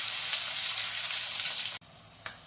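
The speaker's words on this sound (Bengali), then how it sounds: "একটা পিঠ ভাজা হয়ে গেছে, এবার অন্য পিঠটা উল্টে দিচ্ছি" Pieces of fish fry sizzle loudly in hot frying oil in a home kitchen. The hiss stops abruptly, then a brief crackle returns.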